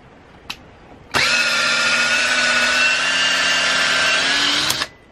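A Makita power drill spins up and runs steadily on a heated length of threaded rod, a loud, close motor whine with a slight rise in pitch, lasting about three and a half seconds before stopping, with no talking over it.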